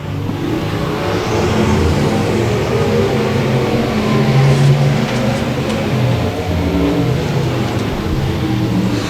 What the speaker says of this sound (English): We'll see if Michael Knighton can get it wound up top in the 96 car